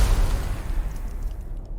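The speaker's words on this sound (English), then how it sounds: "Oh, explosion." Explosion in a Superman movie trailer set in a wintry landscape, a heavy deep boom that hits at once and rolls off into a fading rumble.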